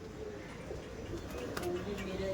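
Giribaj pigeons ready to breed give low, continuous cooing at a moderate distance, a steady murmur of several birds overlapping with faint higher chirps near the end.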